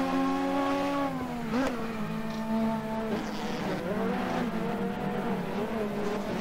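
Ford Mondeo touring car engine straining on track during a race at Paddock Hill, a loud close drone with shifting revs and a sharp gear change blip, other race cars audible nearby.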